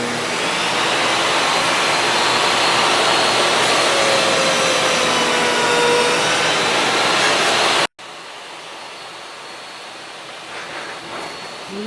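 A power saw cuts a 45-degree miter in a wooden piece clamped against a stop block, a loud steady whining roar for about eight seconds that cuts off abruptly into quieter room noise.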